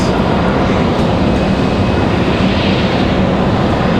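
Airbus A220 jet at Raleigh Durham International Airport, a continuous broad engine roar that holds steady and loud throughout, with no voices.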